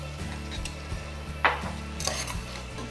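A spoon stirs basmati rice for green leaves biryani in a pot, making soft scraping and rubbing sounds with a brief clink of metal against the pot, close by over a low steady kitchen hum.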